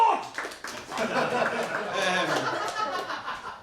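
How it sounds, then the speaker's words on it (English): Comedy club audience at a live stand-up show applauding, a dense steady patter of clapping mixed with chuckles and laughter throughout, fairly close and loud. "Applaud!"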